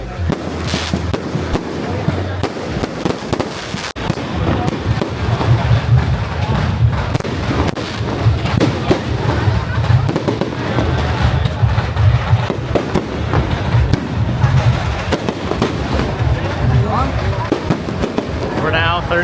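Continuous Chinese New Year fireworks in Penang, Malaysia, with a steady barrage of pops, crackles and deep thumps running without pause, loud and dense, while voices talk beneath the noise.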